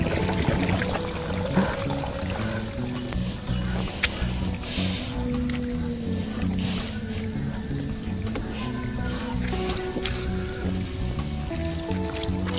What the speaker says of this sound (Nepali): यी पानी चाहिँ अब यसलाई उल्टाइदिन्छु म यसरी